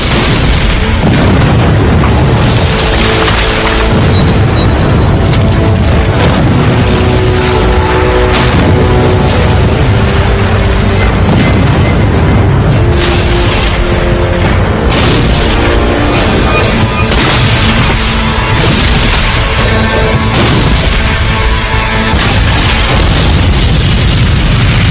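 Massive Civil War artillery barrage at Gettysburg, cannons firing continuously in a dense, overlapping roar of booms and blasts, extremely loud and relentless throughout with no pauses.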